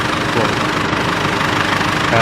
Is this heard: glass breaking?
no